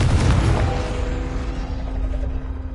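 A Confringo blasting spell explodes in Hogwarts Legacy, a loud low boom at the start that rumbles and decays over a few seconds with a faint tonal ring lingering underneath.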